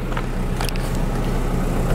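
Car driving through congested city traffic in Cannes, a steady low engine and road rumble heard from inside the vehicle, continuous and moderately loud with no talk.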